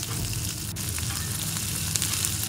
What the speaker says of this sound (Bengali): ভালোভাবে পেঁয়াজের সাথে কষিয়ে নিব